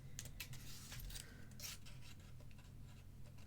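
Soft repeated rasping snips and rubbing of scissor blades through stiff card, close by, with a steady low hum underneath and no talking.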